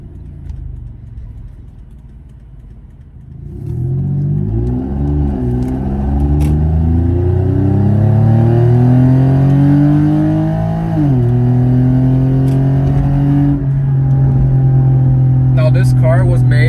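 A 2013 Lexus IS350 AWD's 3.5-liter V6 engine revs up hard, the pitch climbing through several pulls before settling into a loud, raspy, rumbling hold from a leaky muffler.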